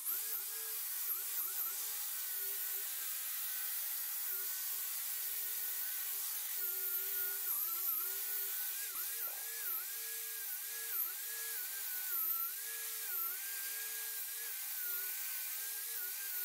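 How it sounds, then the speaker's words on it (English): A wire brush scrubs metal during a striking anvil build. A steady, whining tool tone with a scratchy hiss runs for the whole stretch and wavers slightly in pitch, with no talking. "Wire brush. Always wear eye protection with this."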